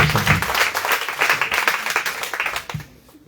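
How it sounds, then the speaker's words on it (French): A church congregation applauds at a baptism service, dense continuous clapping filling the space, close and loud, then trailing off into quiet near the end. "Acclame le Seigneur Jésus."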